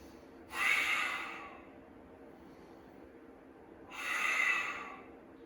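Two slow, deep breaths from a person practicing yoga, each a soft, airy rush lasting about a second, separated by a quiet pause, close and clear with no talking.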